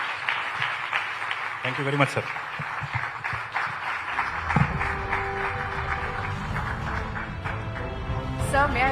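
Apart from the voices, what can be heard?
audience applause at auto summit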